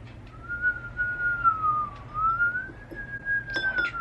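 A single person whistles one long, steady tone that gently rises and falls, fairly close, with faint rustling and low background hum.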